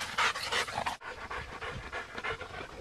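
A dog pants close by in rapid, rhythmic breathy huffs. A brief pause cuts in around one second, and then the steady panting continues without any voices.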